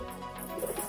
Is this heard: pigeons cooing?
yes